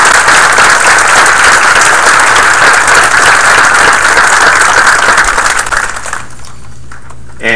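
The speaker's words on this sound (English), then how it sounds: "please a round of applause for them for all their work" A council meeting audience applauds police officers, with dense, loud clapping sustained for about six seconds before it fades to a softer patter.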